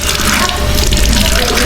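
Cold, clean water in a provincial Philippine home is fetched and poured. It makes a loud, continuous, close gush of running liquid for a short moment, with no speech.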